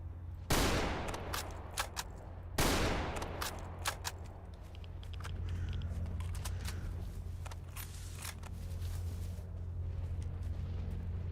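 In Stalker Anomaly, an M249 machine gun opens with two loud, sharp bursts in quick succession, followed by a sustained rattle of rapid fire and scattered reports that thin out into a steady rumbling background.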